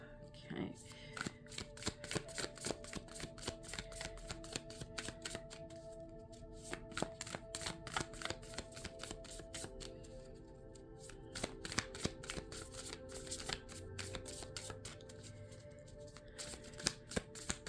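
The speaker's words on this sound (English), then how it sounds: "The matte cardstock, just the sound of the shuffling" Close, crisp riffles and flicks of matte-cardstock tarot cards being shuffled over and over, a steady stream of soft papery snaps and bridges.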